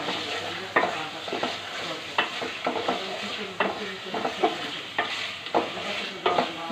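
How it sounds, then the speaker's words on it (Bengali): Snakehead fish pieces sizzle in a pan with spices while a utensil stirs and scrapes in repeated close strokes over a steady frying hiss. "মশলার সাথে ভালো করে কষাবো"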